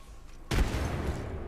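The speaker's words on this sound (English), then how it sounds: "Frag out." A frag grenade in Apex Legends detonates with a sudden loud blast about halfway through, after a short quiet stretch, leaving a rumbling tail that fades slowly.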